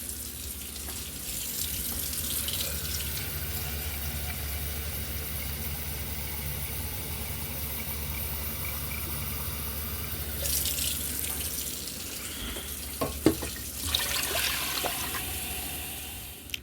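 Running water streams steadily into a pan, four cups' worth, for most of the stretch, then stops briefly before flowing again near the end, with a low hum beneath.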